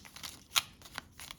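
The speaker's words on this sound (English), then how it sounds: "I'm terrible at shuffling" A deck of playing cards for the Zombicide board game being shuffled, quick soft riffling flutters with one sharper snap, close and quiet.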